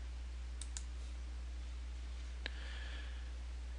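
A few sharp computer mouse clicks, a quick pair near the start and one more a couple of seconds later, sit close and distinct over a low steady hum with no talking.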